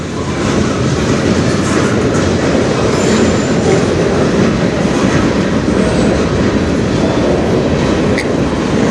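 Canadian National freight cars roll past close by in a loud, continuous rumble with clattering wheels and faint squeals, and no voices.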